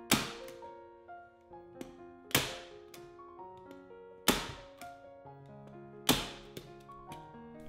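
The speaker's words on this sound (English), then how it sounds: "And now we can staple this last edge." A staple gun fires fabric onto the edge of a homemade ironing board, giving four sharp, close, evenly spaced thwacks with quiet pauses between them.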